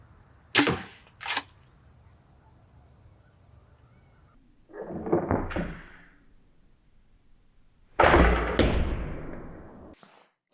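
A Kirby-style Nerf blaster firing in short sharp snaps, two quick pops followed later by two longer bursts of clattering mechanical action, close and alone.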